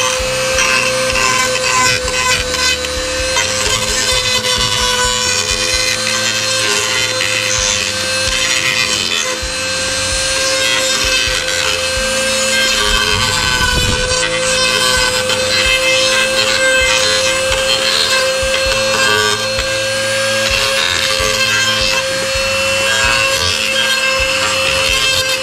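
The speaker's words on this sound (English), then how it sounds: "what I want to do is use the Dremel to clean up a little bit so that I don't have hard" A Dremel rotary tool grinds steadily to smooth the rough cut edges of an opening in the bed of a 2019 Ford F-150, giving a loud, continuous high-pitched whine with a raspy scraping texture that runs unbroken for the whole stretch.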